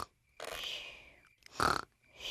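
Cartoon piglet George snoring in his sleep, a few soft, breathy snore bursts with pauses between them, fairly close, with no talk over them.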